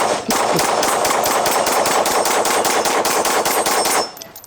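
Rapid string of pistol shots from a Sig Sauer P211 GTO, fired in a fast, even rhythm of many closely spaced cracks, loud and close, ending abruptly after about four seconds.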